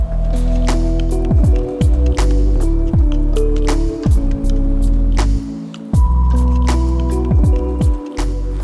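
Meat solyanka soup with sausages and brisket is stirred and ladled in a kazan, giving wet squishing and dripping sounds with repeated clanks and scrapes of the utensil, close and loud.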